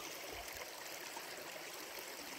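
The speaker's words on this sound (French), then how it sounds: "ce petit ruisseau, tout petit ruisseau minuscule là, que vous voyez, eh bien c'est le Lot" A tiny stream at the source of the Lot river, at 1272 metres altitude, trickles and gurgles steadily and fairly close, a constant watery rush with no voices.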